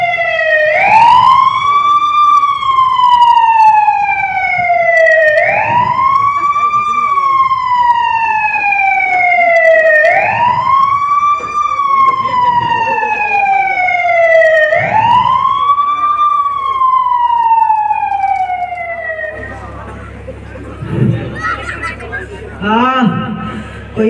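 An ambulance siren wails in long, loud, rising-and-falling sweeps, repeating steadily and close by for about twenty seconds before it cuts off into a mix of background noise.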